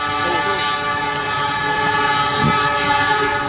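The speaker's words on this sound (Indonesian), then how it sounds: "Padahal suara peringatan sudah sangat keras" A passing train sounds a loud, sustained horn warning at a railway crossing, a steady tonal blare over the rumble and clatter of the rail cars, with no talk.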